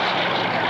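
A propeller aircraft engine at an airshow roars loud and close, a steady broadband drone with no break and no voices heard.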